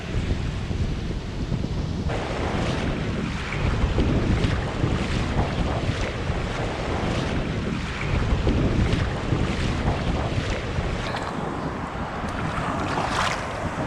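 Sea waves and strong wind at the shore while seawater is gathered, heard as continuous rushing wind buffeting the microphone over repeated surges of surf, loud and close, with no talking.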